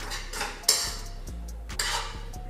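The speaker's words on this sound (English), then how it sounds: "I'm gonna go ahead and give it a stir" A spoon stirs a hot sauce mixture for vegan spicy buffalo chickpea wraps in a pot, with a few soft scrapes and two sharper clinks against the side, all close by over a steady low hum.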